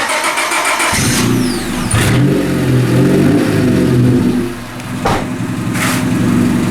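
A car engine, with a large part installed in the car, roars loudly and close, starting with a rising rev, then a sustained throaty rumble that dips briefly and surges again, no talk.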